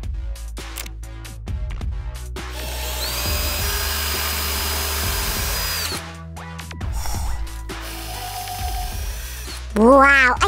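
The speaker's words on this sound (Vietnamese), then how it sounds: "Chúng ta sẽ khoan lỗ ngay luôn nha." A power drill boring holes through a CD disc, with a whirring, stop-start drilling sound heard in several bursts at close range, and a voice talking in between.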